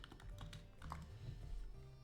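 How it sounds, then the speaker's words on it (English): Fingers tap rapidly on a computer keyboard sitting right beside the microphone, a quiet, close run of irregular key clicks with no talking. "I apologize if you can hear my keyboard."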